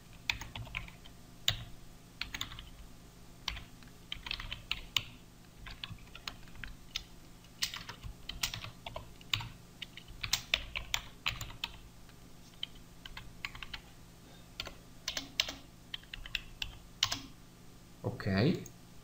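Steady typing on a computer keyboard, quick irregular clicks and key taps at close range continuing for a long stretch with brief pauses, entering VBA code for an Excel userform.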